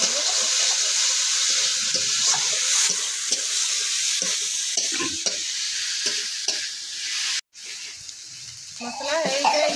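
Tomatoes with masala stirred and sizzling in a pan, a loud continuous fry with repeated scraping stirs, briefly cut off near the end before resuming.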